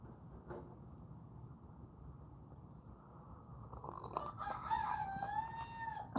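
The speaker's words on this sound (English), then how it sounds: "Yeah, a little rooster." A rooster crows at 5 a.m., starting after a stretch of low outdoor rumble and ending with a clear, moderately distant cock-a-doodle-doo.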